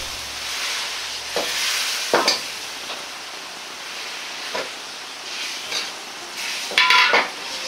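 A sauce for grilled cabbage is heated until it boils, giving a steady close sizzle and hiss broken by sharp clinks and scrapes of a utensil against the pan.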